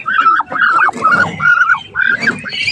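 Farm ducks tended on a Filipino duck farm quack loudly and close up in a run of harsh, nasal calls with short gaps between them, some overlapping, with no voices over them.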